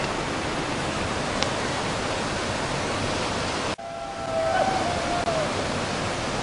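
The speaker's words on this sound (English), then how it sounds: "Look at this waterfall." Costa Rican waterfall roaring as a steady, loud broadband rush that fills the whole clip; one short break near the middle, then a faint tonal whine rides over the pouring water.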